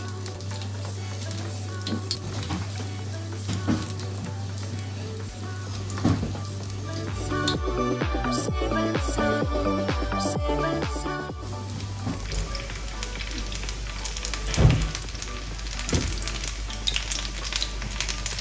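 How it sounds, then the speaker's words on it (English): Puff puff dough sizzles and crackles in a pot of hot oil, a dense, continuous frying hiss with scattered pops and some stirring noises, close and steady throughout with no talking. "I'll take my time and fry this batch"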